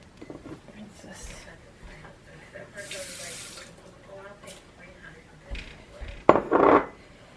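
Water runs from a kitchen tap into a sink while eggs are rinsed, a brief hissing burst midway and a louder splash near the end, with soft whispery voices and light clinks of dishes around it.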